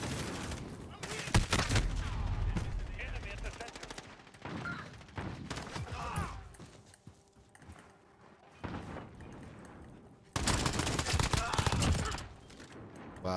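Shotgun blasts and other gunfire in the video game Call of Duty: Warzone, loud bursts spread unevenly through the stretch, with players talking between and over the shots.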